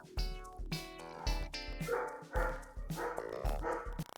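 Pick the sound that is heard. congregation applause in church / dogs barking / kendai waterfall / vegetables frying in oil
dogs barking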